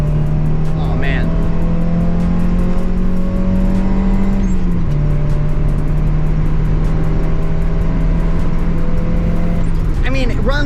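A Nissan 350Z engine drones steadily as it accelerates, a loud continuous hum rising slightly in pitch, with a brief shift midway, heard from inside the car.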